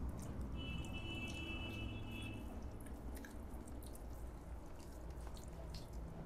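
Water drips steadily from a home water filter, soft irregular drops falling with a faint hiss underneath and a brief high whine early on, quiet and close with no talk.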